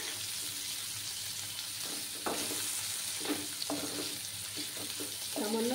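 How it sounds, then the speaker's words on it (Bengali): Paneer pieces fry in oil with a steady close sizzle, broken by several scraping stirs of a spatula in the pan, with no voices. "পনিরগুলো ভালো করে ভেজে নেব,"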